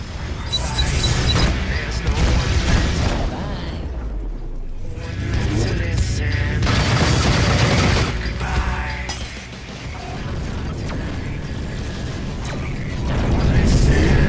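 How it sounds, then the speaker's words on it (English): Spaceship combat in Rebel Galaxy Outlaw with an incoming missile attack: layered mechanical whirring, clanking and crashing impacts over a steady game soundscape, loud and continuous with swells near the end. "Missile inbound."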